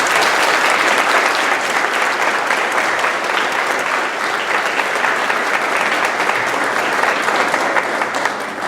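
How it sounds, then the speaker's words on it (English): An audience applauds an elementary school choir at a school event: dense, steady, loud clapping that holds evenly throughout and tapers slightly at the very end. "Let's give a big round of applause for Pecan Grove Elementary Choir and their teacher"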